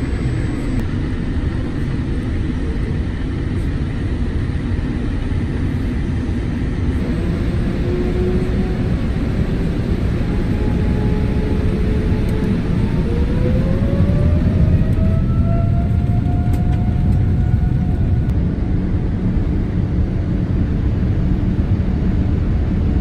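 British Airways Boeing 787 taxiing to the active runway at Calgary International Airport, heard from inside the cabin as a loud, constant broadband engine roar with a faint rising whine.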